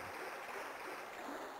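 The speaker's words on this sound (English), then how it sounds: "The water splashing, but you don't actually see it." Water splashes and sloshes in Resident Evil 2 (1998), a steady soft rushing, burbling wash that stays faint and continuous throughout, with no talking.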